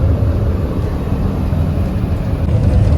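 Truck driving on a mountain road between Mestia and Ushguli, heard from inside the cab as a steady, loud low engine and road rumble.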